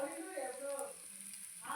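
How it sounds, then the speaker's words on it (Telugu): Village-style spice masala powder is stirred into a hot pan of goat offal with tender tamarind leaves, giving a faint, brief sizzle. "పై మసాలా వేసేసుకోవాలి వేసుకొని ఒకసారి మొత్తం తిప్పుకోవాలి"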